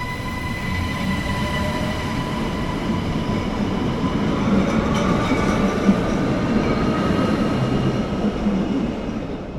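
A stationary WESTbahn train hums and rumbles steadily at a station platform, with faint metallic squeals and tonal whines over the constant drone, no voices.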